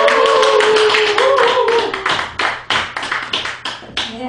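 Applause from the audience at a live Christian praise concert: sparse, uneven claps build over fading music, then several sharp separate claps ring out near the end.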